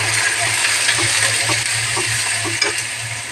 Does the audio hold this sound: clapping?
no